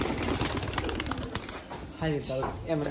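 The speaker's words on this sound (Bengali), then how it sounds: "এখানে কিছু কবুতর আছে দেখতে পাচ্ছেন, বাচ্চা আছে বাচ্চা মারছে।" Giribaj pigeons at a pigeon farm coo in short, low, throaty bursts, with clear calls near the end, while people talk in the background.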